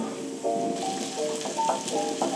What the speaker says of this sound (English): And into the frying pan.